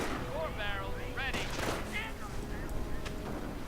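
A strafing run rattles through a World War II strategy game battle, with bursts of rapid gunfire and impacts layered over a busy mix of in-game effects and chatter, loud and continuous.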